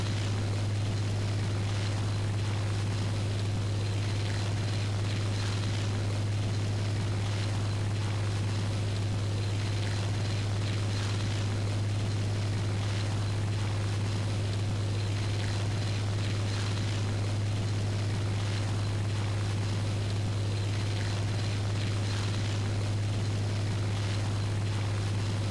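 Propeller fighter plane engine in War Thunder climbing toward altitude: a steady, unbroken low drone with a strong constant hum and airy wind noise, loud and sustained throughout.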